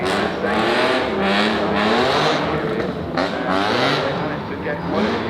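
Engine of the Beast of Turin, a classic Fiat racing car with a 28.4-litre engine, roaring loudly and continuously close by, its pitch rising and falling as it revs, with a voice talking over it.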